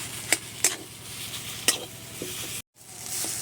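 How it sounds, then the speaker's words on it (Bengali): Spiced potato filling for rolls is stirred in a pan, with a soft continuous sizzle under several sharp scrapes and clinks of the spoon against the pan, a brief dropout, then the frying hiss resumes. "গরম মশলাটা দিয়ে আমি আবারও একটু নেড়ে চেড়ে নিচ্ছি, নিয়ে লাবিয়ে নেব।"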